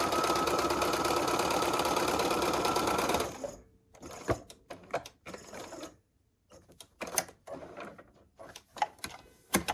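A sewing machine stitches quilt pieces with a steady, loud running hum for about three seconds. Then it breaks into short, irregular bursts with pauses between them, close by and with no talking.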